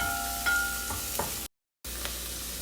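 Onion sizzles in hot olive oil in a pan, a close, steady frying crackle with a few stirring scrapes, broken by a short silent gap before the sizzling resumes.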